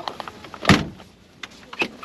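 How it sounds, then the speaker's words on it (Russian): A car door slams with one sharp, loud thud, followed by fainter knocks and rattles of the door and car body nearby, with no voices. "Сильнее к двери хлопай"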